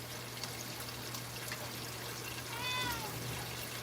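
A pet cat gives a single short meow near the end, heard in a home kitchen during breakfast preparation over a steady hum and low background noise.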